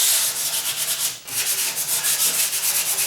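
Rapid back-and-forth scrubbing of coarse-grit sandpaper across a wooden door, a rhythmic rasping that pauses briefly near the middle and then resumes at a steady pace.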